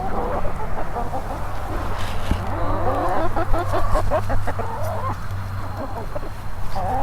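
Rooster clucks and short calls come from close by, mixed with a low engine drone and a bit of background noise.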